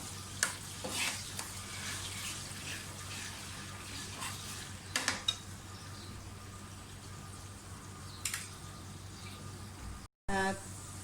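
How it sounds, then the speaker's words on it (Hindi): Chopped onions and two tablespoons of garlic-ginger paste fry in a pan for spicy vegetable rice. A soft, steady sizzle runs throughout, broken by a few faint clicks of stirring, and the sound stays quiet and fairly distant. "अदरक लहसुन और प्याज अच्छी तरह से भून जाएं, फ्राई हो जाएं"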